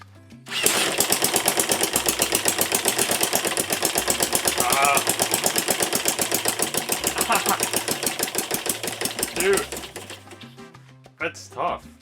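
A small 3D-printed gas engine starts and runs with a fast, loud, evenly pulsing putter, held steady for several seconds before it stutters and cuts out, with a few brief restart bursts after.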